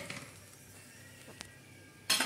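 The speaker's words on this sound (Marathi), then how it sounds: "आता हे आपण चांगलं हलवून घेऊ।" A cauliflower, potato and tomato curry stirred in a pan, with soft scraping and a few metallic clinks of the spoon against the pan, ending in a sharp louder clatter.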